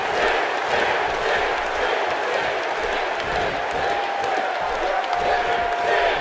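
A wrestling arena crowd in WWE 2K17, during a Daniel Bryan vs Sting match, roars and cheers continuously at a loud, even level with no pause. Commentary may sit faintly underneath.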